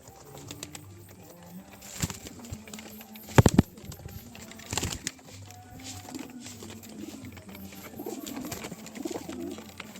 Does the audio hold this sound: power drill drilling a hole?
no